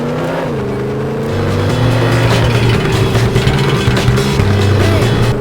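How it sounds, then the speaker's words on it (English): A car engine revs and surges loud and close as the car launches off a jetty in the PS1 game 007 Racing. The pitch climbs and then holds with a steady, gritty roar. "Now launch the car off the jetty."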